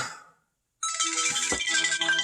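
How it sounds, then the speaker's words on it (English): Alarm ringtone chiming from a Google Pixel 5A phone that is otherwise dead and won't power on, a steady bright electronic melody starting after a short silence and playing on loudly and close. "But the alarm is working"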